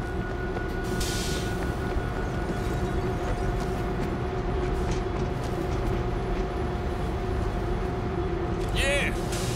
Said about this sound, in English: I'm at the train controls. Backing it up.